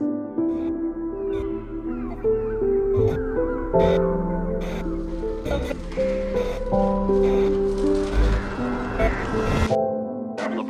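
Crows caw repeatedly over a busy movie soundtrack with music and rustling in a bird attack scene, the calls coming in irregular bursts amid dense background sound.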